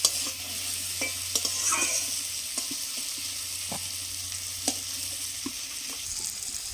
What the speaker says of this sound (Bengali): চিংড়ি মাছগুলো একটু ভাজা ভাজা হয়ে গেছে